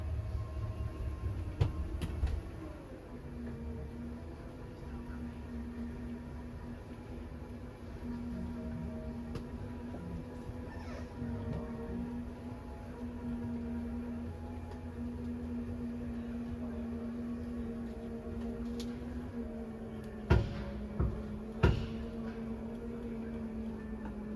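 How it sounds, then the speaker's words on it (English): A steady RV slide-out motor hum on a 2007 Keystone Cougar 276RLS drones for a long stretch, then a few sharp clicks near the end as it reaches its stall and stops. "you're just going to hear some clicks from the motors letting you know they've reached their stall"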